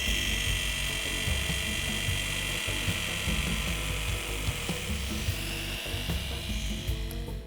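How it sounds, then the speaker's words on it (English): A small high-pitched drill whines steadily and continuously, close up, drilling amber for jewellery, with faint mechanical clicks and grinding underneath. "Now onto drilling."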